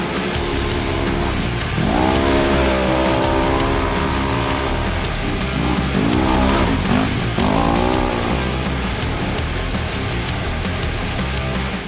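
A Polaris RZR XP1000 UTV engine roars loudly and continuously while driving off-road, with repeated rising and falling revs as the throttle opens and backs off throughout.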